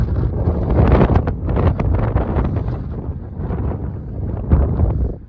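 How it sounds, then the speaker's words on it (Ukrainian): Strong wind buffets the microphone in continuous loud, rumbling gusts, with no voices, outdoors in a field at corn sowing. "вітер сильний у нас"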